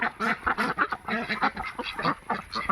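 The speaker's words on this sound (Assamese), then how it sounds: "এইবিলাক হাঁহ এনেকৈ হাঁহ পোহক" Farmed ducks in a poultry shed quack continuously in a dense overlapping chorus, close by and fairly loud, with no talk over them.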